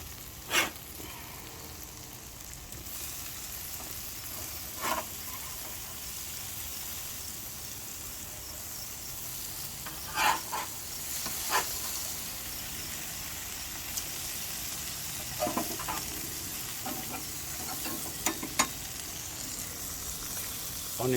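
Juicy Lucy burgers and onions sizzle on a BBQ grill with a steady hiss throughout, broken now and then by faint clicks and clanks from the grill. No one speaks.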